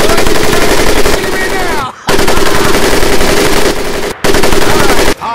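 An M1919A4 .30 caliber machine gun fires in a World War II boot camp scene in Medal of Honor: Pacific Assault. Loud, rapid automatic bursts run about two seconds each, split by brief gaps, with a faint voice in the mix.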